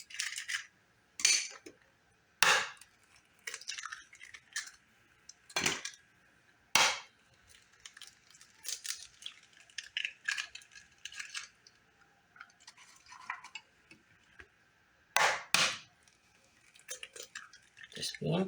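Four eggs cracked one by one against a bowl for apple cinnamon cupcake batter, sharp knocks and taps spaced out over quiet pauses, with small clinks of shell and bowl close by and a faint murmur in the background.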